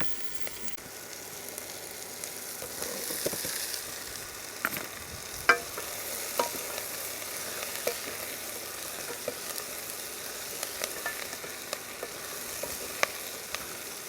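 Butternut squash frying in a pan, a steady crackling sizzle with scattered pops and small spits throughout, fairly close and even in level.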